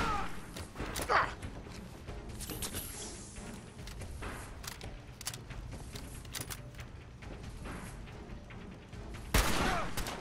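Gunfire in the video game Fallout 4 on survival difficulty, with bursts of assault rifle shots, thuds and impacts spread over a busy mix, some loud close blasts and softer distant shots.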